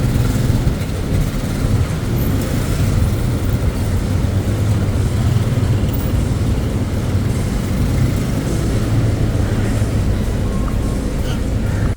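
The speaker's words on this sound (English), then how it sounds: "the traffic noise is a bit busy" Busy road traffic in Segambut, Malaysia, a steady loud low rumble of passing vehicles with constant broadband noise and no talk.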